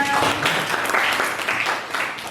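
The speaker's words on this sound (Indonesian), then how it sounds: "Tepuk tangan." Students clap together in a classroom after a group presentation, a short burst of fairly loud, close applause mixed with a few voices, tapering slightly toward the end.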